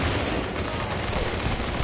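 Heavy machine gun fire in The Division video game rattles as dense, continuous rapid bursts, loud and close, filling the whole moment without speech.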